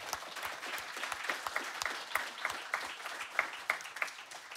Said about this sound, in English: Please give a warm applause for our first panel.